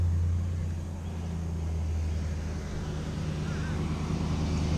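A truck rumbles past nearby outdoors, a steady low drone holding through the whole moment with light wind noise on top and no talking.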